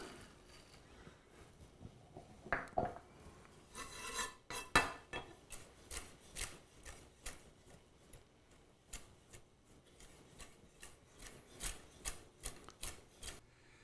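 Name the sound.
knife chopping walnuts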